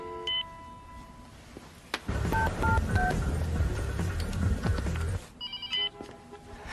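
Short bursts of telephone keypad dialing tones, a quick series of beeps at the start and again near the end, with a louder rumbling noise in between.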